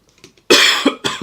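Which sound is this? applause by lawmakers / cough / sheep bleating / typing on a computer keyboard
cough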